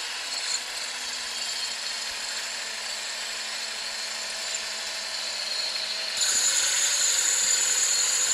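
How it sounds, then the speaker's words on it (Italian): An electric drill with a carbide spear-point bit grinds through a glass bottle at moderate speed, a steady, thin abrasive whine that holds evenly and then jumps brighter and louder near the end as the bit breaks through. "Ecco che abbiamo perforato il vetro"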